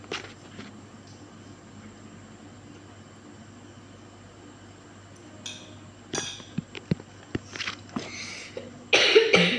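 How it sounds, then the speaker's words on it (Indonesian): Several short coughs come in quick bursts near the end, close and fairly loud over a low steady hum. "Maaf, lagi batuk."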